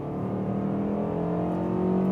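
An SUV's naturally aspirated engine accelerates from 60 to 80 km/h, a smooth steady hum heard from inside the cabin that rises gently in pitch as the revs climb.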